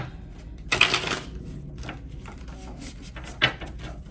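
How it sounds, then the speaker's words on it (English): A deck of tarot cards is shuffled in one quick riffle burst, followed by soft handling rustles and a second brief snap. "Let's shuffle this cards."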